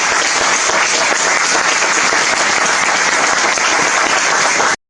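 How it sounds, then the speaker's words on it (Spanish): Steady, dense applause from an audience at a documentary screening event, loud and unbroken for several seconds before cutting off abruptly. "Un aplauso para él."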